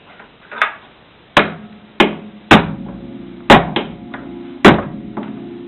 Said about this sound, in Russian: забиваем свой блок назад